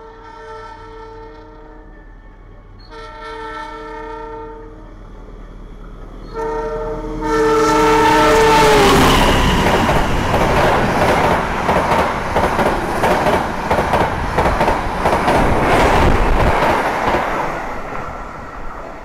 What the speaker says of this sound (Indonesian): Itu dia kereta api Sembrani dari Gambir tujuan Surabaya Pasar Turi. Lewat sini ngebut banget